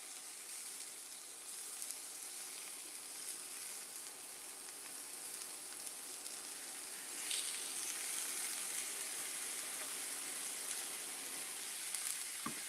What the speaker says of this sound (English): I'm just gonna let it sizzle